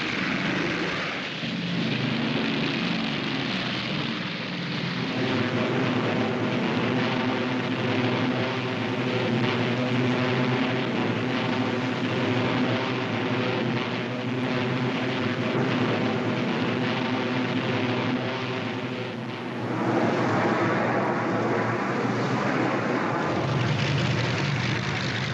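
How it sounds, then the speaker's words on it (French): Luftwaffe transport airplanes flying in the Stalingrad airlift, a continuous loud droning roar of piston aircraft engines that holds steady with a shift in tone near the end, no voices. "La Luftwaffe envoie tous les avions disponibles en Russie pour organiser un pont aérien."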